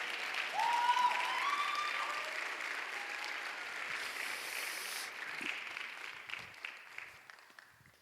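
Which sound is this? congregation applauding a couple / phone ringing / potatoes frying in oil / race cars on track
congregation applauding a couple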